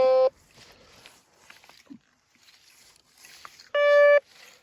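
Two short, steady electronic iron beeps from a metal detector several seconds apart, with quiet rustling and scraping movement in between.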